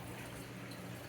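Dishwasher filling with water from its supply, a faint, steady rushing hiss that holds evenly for about a second with no voices.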